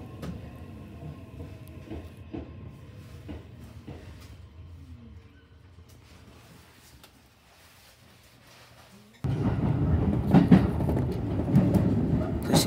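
Sagami Line train standing at Iwata station waiting for an oncoming train: low idling rumble with faint clicks, quieter toward the middle, then a sudden loud surge of noise as the other train arrives close by.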